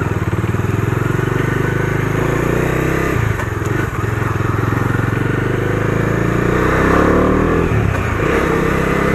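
A Bajaj Dominar 250 BS6 motorcycle rides in first gear, its engine droning loud and close with a steady throbbing note, rising and dipping slightly as the throttle shifts.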